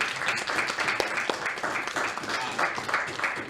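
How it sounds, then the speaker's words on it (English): Audience applause for a club event organiser at a feminism panel, a dense steady wash of many hands clapping close and fairly loud throughout, with faint voices underneath. "So give Dee a round of applause."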